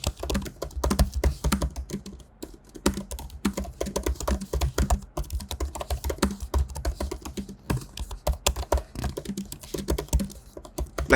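Fingers type steadily on the keyboard of an M1 Max 16-inch MacBook Pro, a close, continuous patter of soft rapid keystrokes with no talking.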